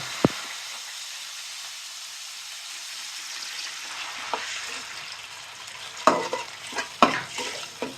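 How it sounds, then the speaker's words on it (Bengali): Water is added to a hot pan of onion paste and spices fried for an egg and coconut curry, starting as a quiet sizzle and then breaking into sharp bursts of hissing and stirring toward the end. "এখন একটু এখানে পানি অ্যাড করব।"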